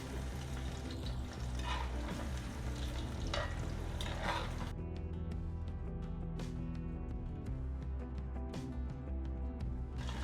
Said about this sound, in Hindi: अब छोटे छोटे बैचेस में फ्राई करेंगे।